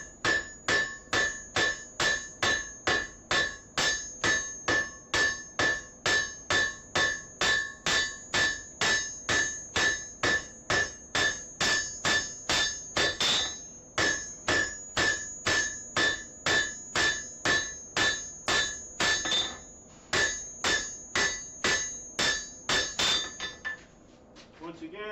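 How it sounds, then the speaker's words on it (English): Cross peen hammer striking metal in a rapid, steady series of sharp ringing blows, dozens of evenly spaced strikes with a bright metallic ring, briefly pausing a few times before resuming. "I think I like that style of just a basic cross peen hammer"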